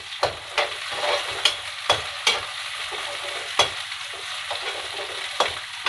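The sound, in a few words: mustard seeds and curry leaves sizzling in hot oil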